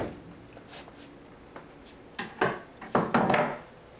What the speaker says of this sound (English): Tap upward gently with a hammer until the pin slips out of the hinge barrels.